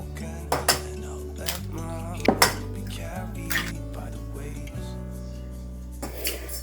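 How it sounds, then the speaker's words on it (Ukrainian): Flour, sugar, vanilla and eggs are mixed in a bowl for a Napoleon cake, with a utensil knocking and clinking against the bowl in irregular, fairly close strikes over a low background hum. "Все ретельно перемішуємо до однорідності."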